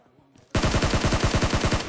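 Video game gunfire: after a quiet half second, a rapid automatic burst of roughly a dozen sharp shots rings out loud and close in an even, fast rhythm.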